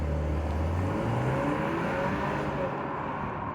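A 2025 BMW X2 28i xDrive accelerating, its engine note rising steadily through the revs as a smooth, clear whir with no talk over it.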